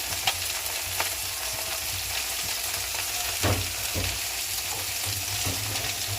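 Ground cumin paste and tomato fry in a pan for lunch, giving a steady close sizzle with occasional stirring scrapes and clinks and no talking.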